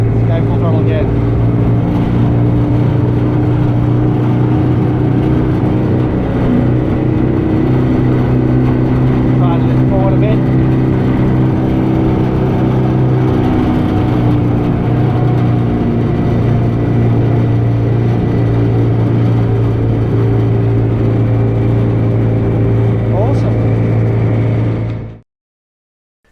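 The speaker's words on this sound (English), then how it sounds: "the 5 horsepower two-stroke Suzuki actually works quite well" Suzuki 5 HP two-stroke outboard motor running at full throttle, a loud, steady buzzing drone held for about 25 seconds with a voice talking faintly under it, cutting off abruptly at the end.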